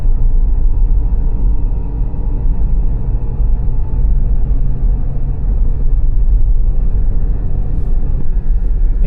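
Car driving along a scenic hill road near Purulia: a steady, loud, low rumble of engine and tyres heard from inside, constant throughout with no talk.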